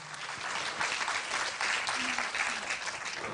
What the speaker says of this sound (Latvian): Paldies par aplausiem.